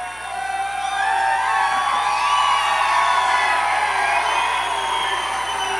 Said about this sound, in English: What a unbelievable crowd.